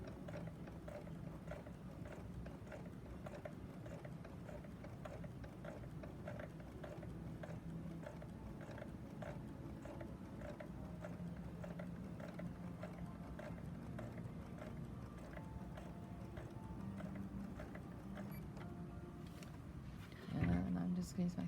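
Serger sewing machine stitching binding onto fabric, a continuous fast mechanical whir with rhythmic ticking, running steadily close by and ending with a brief clunk.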